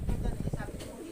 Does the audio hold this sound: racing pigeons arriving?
yes